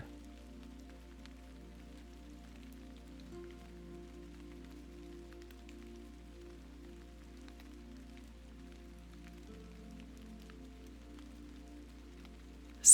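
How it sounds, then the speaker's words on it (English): Steady, soft rain falls continuously on a surface, a quiet, even patter with a low constant hum underneath and no voices, ending with a brief louder knock at the very end. "Let the rain keep you company."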